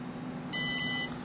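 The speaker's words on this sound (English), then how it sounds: "on initialization you'll hear 1 beep, and then a pause, and you'll hear 5 double beeps" One sustained electronic beep from an Otter electronic speed controller initializing, about half a second long, sounds clearly over a low steady hum.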